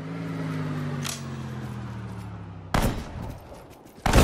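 Gunfire in Sudden Strike 4, a Pacific War battle on Saipan: a low engine drone fades under a faint pop, then two sharp loud blasts burst in, the first decaying over about a second, the second cutting in at the very end.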